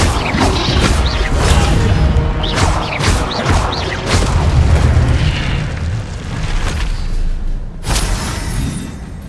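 A fire spell blast from Hogwarts Legacy erupts in loud, dense booming bursts with crackling fiery roar, repeated rushes of flame over several seconds, and a final sharp burst near the end.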